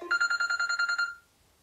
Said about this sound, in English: Oh, look, it's my phone ringing.